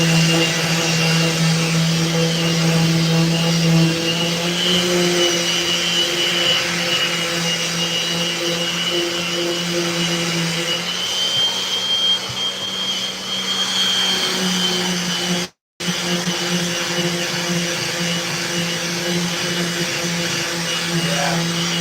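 A Festool workshop vacuum runs continuously during skateboard making, a loud steady whine and drone with shifting tonal hum and a brief cut-out near the end.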